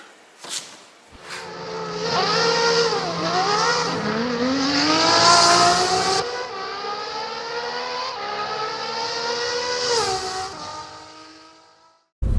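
A Citroen C4 fitted with an Atiker Grand autogas LPG system and 43-litre tank runs on gas. The engine revs up in rising, wavering pitch, holds a high whine, then winds down, ending with a sharp click.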